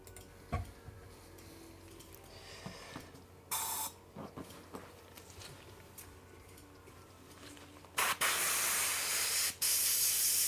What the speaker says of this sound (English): just doing a quick airbrush clean